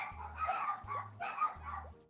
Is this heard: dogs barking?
yes